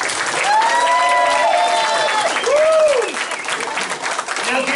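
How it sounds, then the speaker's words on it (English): Loud, continuous crowd applause at a wrestling Hall of Fame induction ceremony, with cheering voices and whoops rising over the steady clapping. "please give a round of applause to the guys in the back"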